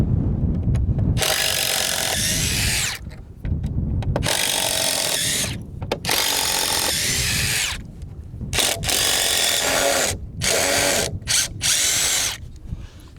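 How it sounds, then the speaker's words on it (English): A power drill unscrews screws from wooden pieces in loud, close bursts of whirring, each lasting a second or two and separated by short pauses, with occasional ratcheting clicks. "need to unscrew those 3 pieces."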